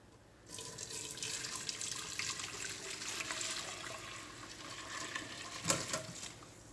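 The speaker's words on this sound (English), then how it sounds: "I'm ready to start transferring my pepper water over to the strainer to get rid of some of the peppers and of course the seeds as I strain it" Pepper-infused water pours steadily through a strainer, a continuous close splashing and trickling that swells into a brief louder gush near the end, with no voices.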